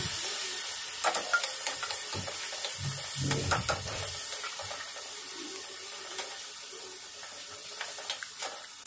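Tomatoes tipped into hot oil already seasoned with coriander powder and spices in a pan, giving a steady hiss and bubbling sizzle with a few clinks and stirs, close and moderately loud with no talking.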